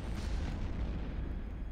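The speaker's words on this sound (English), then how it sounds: "Take a look at the explosions." Ship explosions in the space game EVE Online during a mass citadel test, a heavy continuous rumbling boom that stays loud and dense throughout the short stretch with no talking.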